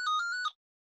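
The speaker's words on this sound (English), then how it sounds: "somebody's ringing the house phone and it's been answered" A house phone rings with a single electronic trill burst lasting about half a second, bright and fairly close, then cuts off abruptly into silence.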